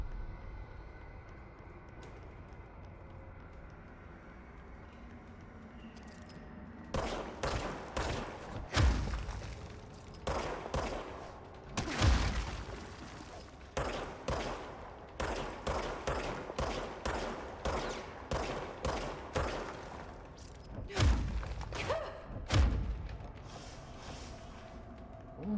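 Bursts of enemy gunfire in the video game Control, with rapid volleys of shots and heavy thuds starting after a quiet stretch and recurring in clusters for the rest of the clip.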